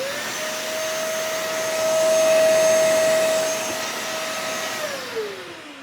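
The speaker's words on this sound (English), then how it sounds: "Got the vacuum here. It is plugged in right here." A vacuum cleaner powered through a 3000W inverter whirs steadily and loudly up close, holding a constant high whine before winding down near the end, with no speech.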